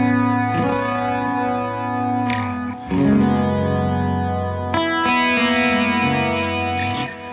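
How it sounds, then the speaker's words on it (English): Sustained chords played through wonky, wavering tape delay with chorus and compression, ringing loud and continuous with chord changes, swelling echoes and faint finger slides between chords, no voices. "that tape delay sound where it's kind of like wonky and wavery"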